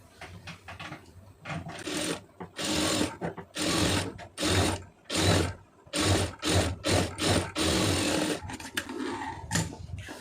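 A sewing machine stitches fabric along a sleeve seam in repeated bursts of rapid mechanical whirring, loud and close, with short pauses between runs.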